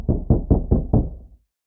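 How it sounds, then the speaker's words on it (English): Heavy banging on a door, low-pass filtered so it sounds muffled as if heard from outside: five evenly spaced dull thuds in a steady rhythm, fairly loud and alone with no voices. "If we take the sound of banging on a door, by simply applying a low-pass filter, we can make it sound like it's coming from outside."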